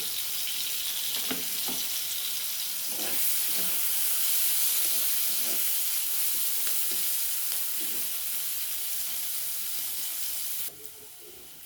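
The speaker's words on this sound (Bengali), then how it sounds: "পেঁয়াজগুলো আমার বেশ বাদামি হয়ে ভাজা হয়ে গেছে" Steady hiss and crackle of onions, bay leaves and green chillies frying in hot oil, with occasional stirring scrapes; close and continuous, no talking.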